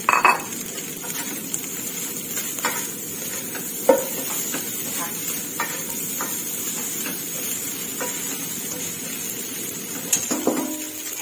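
Chinese sausage fried rice with spring onions being stir-fried in a pan: a steady sizzle under scattered scrapes and clinks of a spatula against the metal, with a louder clatter near the end.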